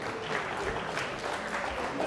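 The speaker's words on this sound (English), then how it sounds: "Give yourself a big round of applause." Seated audience at an evening talk giving itself a round of applause, soft and fairly distant, a continuous wash of clapping.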